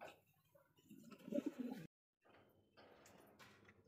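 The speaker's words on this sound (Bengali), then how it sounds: "দেখতে পাচ্ছি এখানে আরো এক জোড়া কবুতর, গ্রিজেল কবুতর" Grizzle pigeons coo softly in short throaty bursts, close but fairly quiet, with a brief silent gap and faint background rustling afterward.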